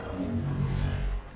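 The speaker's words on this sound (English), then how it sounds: "That was a bad sound. That's the sound of that nasty" Warper creature in the video game Subnautica, a brief low rumbling growl with a roaring edge, steady and fairly loud, heard alone.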